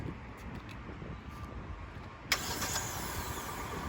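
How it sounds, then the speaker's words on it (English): A rental car's engine that had just died cranks and catches, a faint mechanical rumble building before a sudden sharper burst as it fires and settles into a running idle, with no voices. "So I'm gonna try to start it back up."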